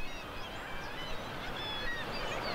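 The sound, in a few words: Atlantic puffins calling from their burrows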